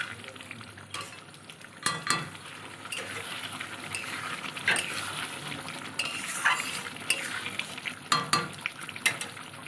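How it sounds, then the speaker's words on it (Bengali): A pan of potato curry (aloo dum) bubbles and sizzles steadily, with occasional scraping stirs and clinks of a spoon against the pan. "বেশ ফুটছে আলুর দমটা"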